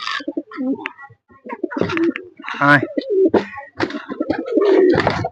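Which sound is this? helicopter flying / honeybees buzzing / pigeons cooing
pigeons cooing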